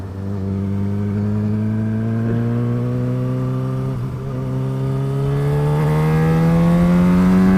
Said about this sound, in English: I'm just getting on the motorway, so this is going to be quite a few miles of boring noise